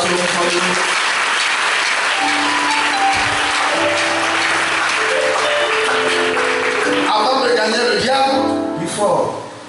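A church congregation at a French-language spiritual sermon breaks into applause, a broad wash of clapping that fades as a voice talks over the hall.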